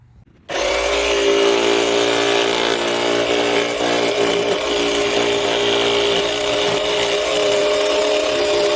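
A power saw starts abruptly and runs steadily, loud and close, ripping scrap wood boards into 2-inch strips with a continuous high whine and no talking.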